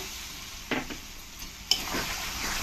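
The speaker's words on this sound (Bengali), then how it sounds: "জলটা দিয়ে ভালো করে আমি মশলার সঙ্গে মিশিয়ে নেব।" Spice masala with onion and a little water being stirred in a pan for a rohu fish curry, giving a soft wet sizzle with a few brief scrapes and one sharp clink of the spoon against the metal.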